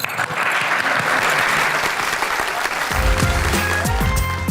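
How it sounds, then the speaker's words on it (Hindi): Audience applause in a television talk show studio, a steady dense clapping from a crowd that continues throughout while music begins underneath partway through. "तालियां बजाएं।"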